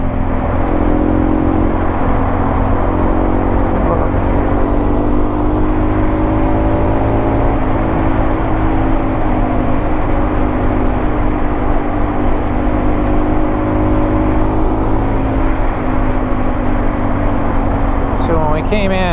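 Yamaha dirt bike on a Talladega National Forest trail, its engine loud and continuous close by, pitch sweeping down and rising again as it brakes, downshifts and accelerates.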